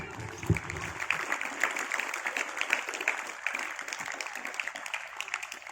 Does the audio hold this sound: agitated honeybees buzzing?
no